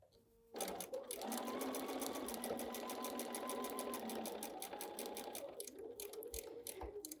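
A sewing machine runs in one steady, continuous stitching burst, stitching then backstitching fabric on a foundation paper-pieced quilt block, close and loud, with a brief pause and softer stitches near the end and no talking.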